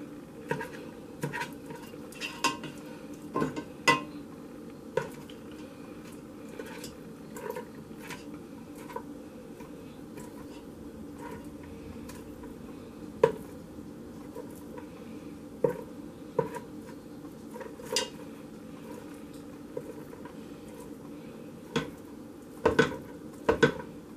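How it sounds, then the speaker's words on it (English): Sausage is broken into chunks in a pan over medium heat, with scattered utensil scrapes and clicks against the pan over a low, steady sizzle, close by and without talk. "I'm going to break the sausage up a little bit into some good chunks here."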